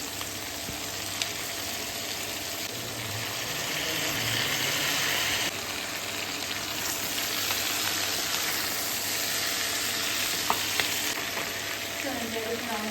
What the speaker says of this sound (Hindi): सब्जियों को सौते करने के बाद इसमें डालेंगे चिकन